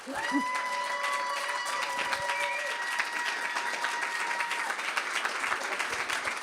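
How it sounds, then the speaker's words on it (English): Sustained applause and some cheering from a conference audience as an award recipient is called to the stage, with dense clapping running evenly throughout and brief tonal sounds early on. "This is your applause."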